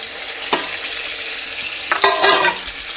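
Potatoes fry in a pan with a steady background sizzle, broken by a couple of sharp stirring clatters near the middle and end as the pieces are moved around.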